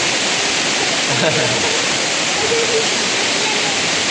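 Tumpak Sewu waterfall in Lumajang roars as a steady, dense broadband wash of falling water, loud and continuous throughout, with faint voices briefly audible beneath it.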